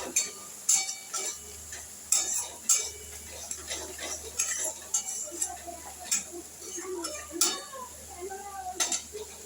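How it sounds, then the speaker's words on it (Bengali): Boiled potatoes being mashed in a pot for chholar daler ghugni, with irregular clinks and taps of a utensil against metal and soft squashing in between, close by and fairly quiet. "সেদ্ধ আলু চটকে দিয়ে দিচ্ছি"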